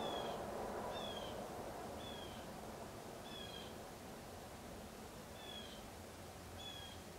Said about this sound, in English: What is this bird outside my window?